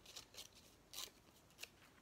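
Scissors snip through a scrap of paper in several quiet, close cuts, irregularly spaced with short pauses between, and no speech.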